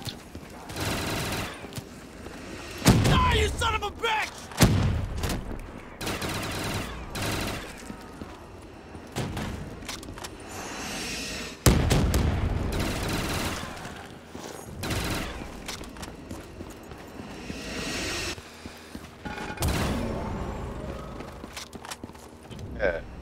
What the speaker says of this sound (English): sounds like Santa's shooting missiles